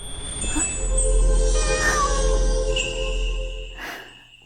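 A cat meows close by in a drawn-out, wavering cry lasting several seconds, with a faint background hum and no talking.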